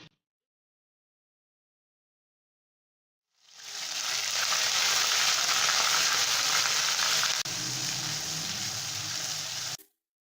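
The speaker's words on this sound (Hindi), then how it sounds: "प्याज को बस 1 मिनट तक ही फ्राई करेंगे" Onion hits hot oil in a kadhai and erupts into loud, dense sizzling that holds steady for several seconds before cutting off abruptly.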